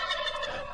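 A short, loud burst of turkey gobbling, one bright warbling call lasting under a second with nothing else around it.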